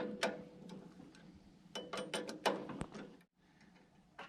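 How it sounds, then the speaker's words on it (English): Metallic ratcheting clicks and taps ring out close by as 17mm wrenches work a bolt loose on a sawmill, coming in irregular bursts with a short silent gap near the end. "take this bolt out, take the handle off, screw the old part out, screw the new part in"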